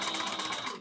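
A sewing machine runs a steady, fast, rhythmic stitching whir while back stitching on a tote bag, close and continuous for under a second.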